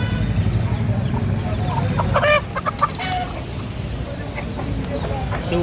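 Chickens and roosters clucking and calling at a busy poultry market in Miraj, a dense close chorus of short clucks and squawks mixed with crowd murmur and people talking nearby.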